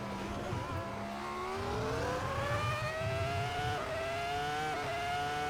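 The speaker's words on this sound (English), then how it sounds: "can hear the rumble of the traction control in the background" A Ferrari F2004 engine in Assetto Corsa whines upward through the gears, with a low buzzing traction control rumble underneath, steady and moderately loud.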